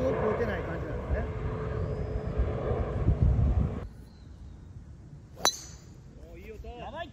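On the Eagle Lake golf course, a club strikes the ball with one sharp, bright click amid wind and outdoor background noise.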